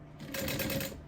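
A sewing machine runs steadily, stitching a leather sling's lining slowly around curves, a close, continuous mechanical whir with no voices.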